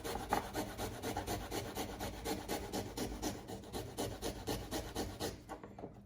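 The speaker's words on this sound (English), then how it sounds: "So we're going to go ahead and grate our ginger." Fresh ginger is grated on a microplane in a kitchen, a close, rhythmic scraping of quick repeated strokes that carries on steadily before stopping near the end.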